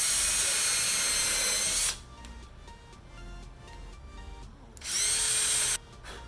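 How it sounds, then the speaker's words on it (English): A power drill whirs at high speed for about two seconds pre-drilling wood for a circular saw guide, pauses through some quieter handling noises, then whirs again briefly, close up. "I'm going to pre-drill these."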